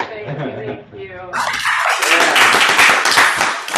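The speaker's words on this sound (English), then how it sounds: "You gotta hear them clapping." Brief speech gives way to a loud, dense swell of audience clapping that fills the rest of the moment, steady and enthusiastic from a crowd of listeners.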